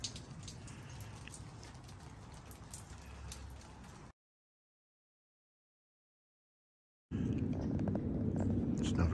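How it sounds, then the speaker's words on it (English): Steady rain falls outdoors around a young Japanese maple in November, a constant broadband patter with scattered drop hits, cut by a few seconds of silence before resuming slightly louder. "We have rain."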